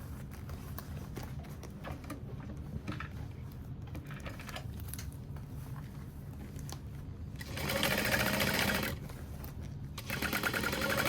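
A sewing machine stitches a backpack lining with a steady mechanical chatter in several runs, close and clear, with short pauses between stretches of sewing and no speech.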